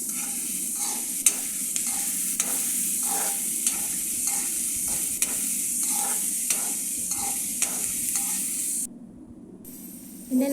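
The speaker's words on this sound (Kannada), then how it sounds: "ಈಗ ಎಣ್ಣೆಯಲ್ಲಿ ಚೆನ್ನಾಗಿ ಫ್ರೈ ಮಾಡಬೇಕು." Chopped onions fry in hot oil for batata vada, a loud, continuous close sizzle broken by regular scraping clicks of a spatula stirring, with no voices, briefly dropping quieter near the end.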